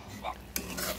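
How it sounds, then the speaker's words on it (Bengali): Paneer masala being stirred in a pan, a brief scrape of the spatula and a single sharp clink over a soft background sizzle. "আমি ভালো মতো নেড়ে নিয়েছি"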